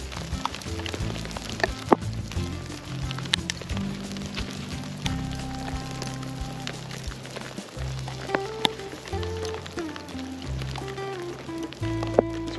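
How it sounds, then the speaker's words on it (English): Hail falls on a mountainside, a dense, irregular patter of hard impacts under a steady low rumble, continuous for several seconds with occasional louder hits and no clear speech. "Now we got big old hail balls coming down on us."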